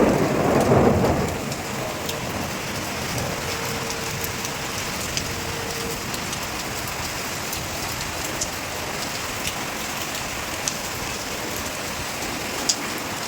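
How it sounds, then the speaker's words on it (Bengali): Heavy rain pours steadily in a thunderstorm, with a low rumble of thunder at the start and occasional faint drips and taps over the constant hiss. "ঝড় বৃষ্টি সব একসাথেই হচ্ছে।"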